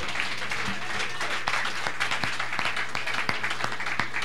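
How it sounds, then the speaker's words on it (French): A church congregation at CCPV Montréal applauds during a worship service, with steady rhythmic clapping and some voices rising in cheers, fairly close and continuous throughout. "Est-ce qu'on peut acclamer le roi des rois?"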